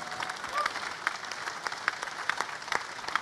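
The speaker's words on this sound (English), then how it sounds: "I want a big, big, hearty round of applause, please." An audience at a motorsport show launch applauds rally driver Elfyn Evans, the soft crowd clapping dotted with sharper individual claps, with a brief faint whistle early on.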